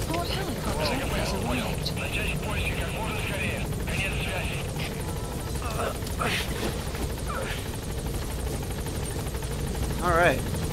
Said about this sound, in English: Support helicopter is arrived.